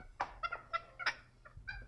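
A small black rooster gives a quick series of soft, close clucks, about half a dozen short calls in under two seconds, with no voices over them.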